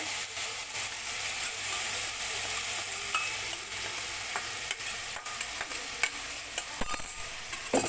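Spice paste for a clam curry sizzles and fries in a pan while it is stirred, producing a steady close crackle with a rhythmic scraping of the spoon and no talking throughout.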